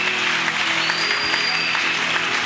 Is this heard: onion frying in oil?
no